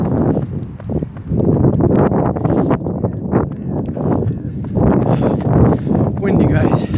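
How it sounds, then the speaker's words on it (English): Heavy gusts buffet the microphone with low, rumbling bursts, rising and falling throughout; no clear speech, just constant wind blasting close up. "Windy guys, windy."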